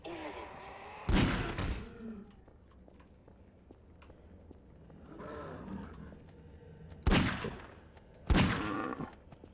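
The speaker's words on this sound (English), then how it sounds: "Two shots of the Magnum, huh?" Magnum revolver fire in Half-Life 2: heavy, booming gunshots, loud and close with long ringing tails, two pairs of shots separated by a few seconds, with a faint growling game sound in between.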